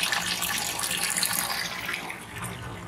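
Water runs steadily from a public drinking fountain in Geneva, Switzerland, a continuous splashing hiss that stays close and fairly loud for the whole stretch, with no voices over it.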